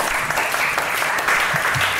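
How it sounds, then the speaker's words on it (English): An audience claps for panelists at an arts discussion event, steady, dense applause filling the whole short stretch at an even level. "Can we clap it up for panelists?"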